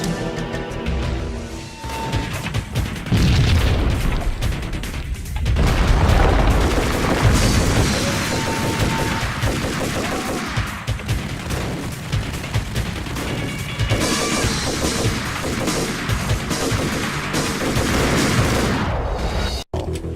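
Intense gunfire from the Max Payne PC game, with rapid bursts and heavy booming shots layered into a loud, nearly continuous barrage that pauses only briefly before resuming.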